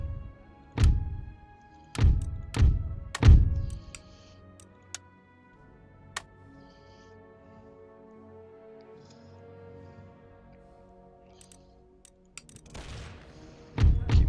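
Cannon artillery firing in the Empire 2 mod of a strategy video game: a cluster of four deep booming shots early on, scattered faint pops, then another burst of heavy blasts at the end.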